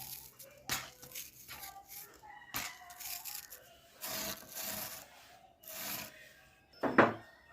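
A dry, gritty rubbing rasps back and forth over wood dusted with crushed pebble powder in uneven strokes, close and fairly quiet, ending with a brief harsher scrape.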